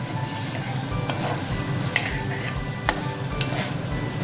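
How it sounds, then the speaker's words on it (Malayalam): Potatoes and eggs with salt are stirred in a hot pan, producing a steady close sizzle with soft scraping and occasional light clicks from the utensil. "ഇതൊന്ന് നന്നായിട്ട് ഉപ്പ് പിടിക്കത്തക്ക രീതിയിലൊന്ന് ഇളക്കി കൊടുക്കും"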